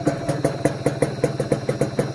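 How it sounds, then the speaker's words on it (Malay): A vehicle engine idles on a quiet rural forest road, close by and loud, in a steady rhythmic chugging pulse about five beats per second with no talking. "Dekat sana, mungkin saya perlu matikan enjin sekejap."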